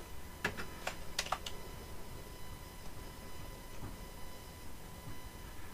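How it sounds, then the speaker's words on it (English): Fast, light keystrokes on a computer keyboard entering a command, a short cluster of clicks near the start followed by quiet room hum. "we'll type rake db migrate"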